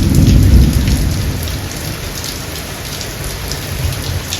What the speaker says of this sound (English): Slight rain.